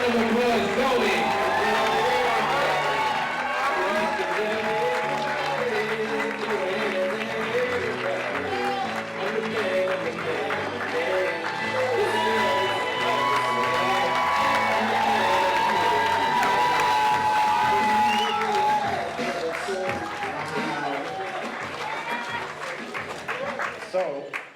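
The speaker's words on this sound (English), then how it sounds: "Let's go ahead and give him a standing ovation, ladies and gentlemen" Standing ovation at Howard Langley's retirement party, loud sustained clapping with cheers and whoops from a crowd, voices and talk running through it for the full stretch.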